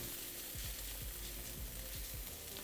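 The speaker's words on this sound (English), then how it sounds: "I could hear the sizzles getting more aggressive and I don't want the onion to burn" Chopped onion sizzles and fries in a 10-inch Staub cast iron skillet, a steady crackling hiss with regular soft scraping strokes of stirring roughly every half second.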